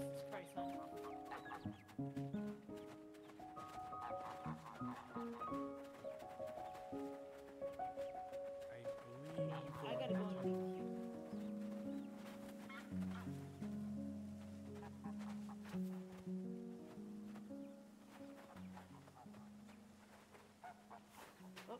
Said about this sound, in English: Ducks are still going.